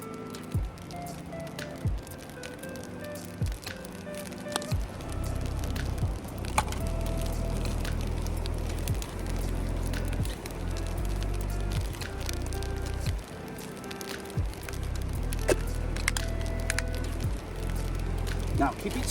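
Spicy fried rice stirred in a pan over a Firebox camp stove outdoors, giving repeated scraping and wooden clatter in an uneven rhythm beneath someone talking throughout.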